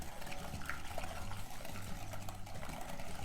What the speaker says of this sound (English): All right, so we are gonna add the milk.